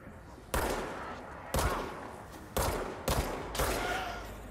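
Gunfire in the video game Control comes as five loud, punchy shots at an uneven pace, each ringing out briefly before the next, with no talk over them.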